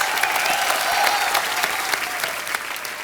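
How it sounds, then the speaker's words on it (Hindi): Studio audience on a comedy talk show bursts into loud, sustained applause, a dense wash of clapping that holds steady throughout with no talking. "जोरदार तालियां एक बार"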